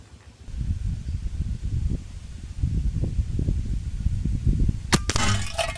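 An 8 mm PCP air gun with a stainless barrel fires a single sharp crack near the end, following several seconds of low rumbling handling noise.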